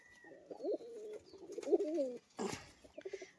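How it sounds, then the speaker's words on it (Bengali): Pigeons coo close by in soft, rolling throaty phrases, followed by a brief flutter or rustle and more low cooing. "এই যে মাদি পায়রাটা ঠিক আছে"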